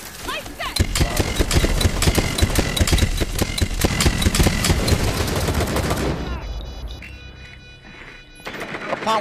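Rapid suppressed automatic fire from an MPX in Rainbow Six Siege, a dense rattling burst lasting several seconds up close, then quieter game noise, with voices talking over it.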